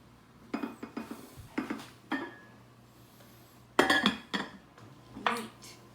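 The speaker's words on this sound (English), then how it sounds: "Put the lid back on." Metal clanks and clinks sound as a lid goes back onto a cooking pot of slow-cooked beef bourguignon, several separate knocks and rattles, fairly quiet, with no talking.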